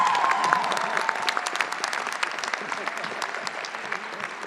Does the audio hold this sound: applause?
yes